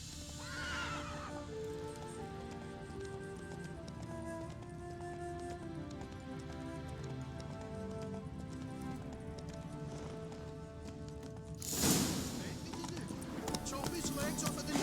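A horse in The Witcher 3 whinnies and clip-clops along at a trot, the hoofbeats steady through most of the stretch, with a louder burst near the end over game sound and speech.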